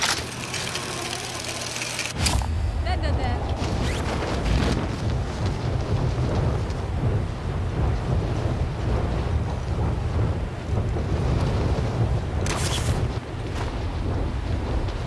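Heavy rain with rumbling thunder on the Caldera map of Warzone, a steady loud downpour roar after a brief quieter opening, with a sharp crack of thunder near the end.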